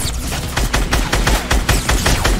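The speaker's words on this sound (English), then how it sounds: "I tried to fire back." Rapid gunfire in Fortnite crackles in quick successive bursts, loud and close, several sharp shots repeating rhythmically with no talk.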